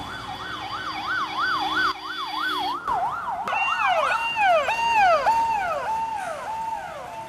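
Ambulance siren wailing loudly and steadily, its rising and falling tone changing pattern partway through, with no voices over it.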